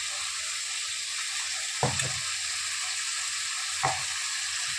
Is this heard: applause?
no